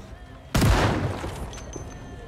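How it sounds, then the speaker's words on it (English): A single loud gunshot from a firearm in the zombie survival game Project Zomboid, with a sharp blast that decays into a ringing tail, alone and close. "We only get 4 shots in this before we gotta reload."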